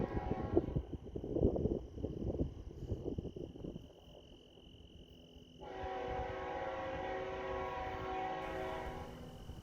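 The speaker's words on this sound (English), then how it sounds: "here comes that southbound. It's a train we heard from earlier today." Southbound freight train M541, out of Queensgate Yard in Cincinnati and bound for Rice Yard in Waycross, rumbles past with a loud, steady roar. A sustained horn tone holds throughout, and a brighter, denser wheel-and-car clatter builds over the second half.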